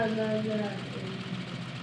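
A tractor engine idles in Farming Simulator 16, a steady low mechanical hum with a tonal drone that fades slightly after the first moments, with people talking over it.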